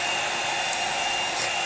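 A hair dryer runs with a steady, loud whooshing hiss and whine, constant for the whole stretch and ending in a brief louder burst.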